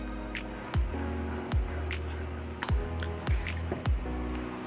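Sourdough starter of wheat and white flour with warm water is stirred by hand, giving a steady series of wet, squelching squishes at an even rhythm, close and fairly quiet over a low hum.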